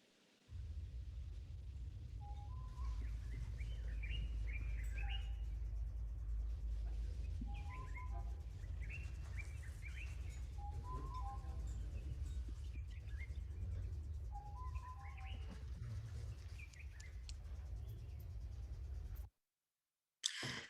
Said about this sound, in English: I just need to get this sound because there's some lovely birds